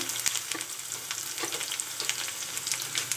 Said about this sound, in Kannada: ನಾನು ಈರುಳ್ಳಿ ಸೇರಿಸ್ಕೊತೀನಿ ಸ್ವಲ್ಪ ತೆಣ್ಣೆದಲ್ಲಿದ್ದು ಫ್ರೈ ಆಗೋದು ಸಾಕು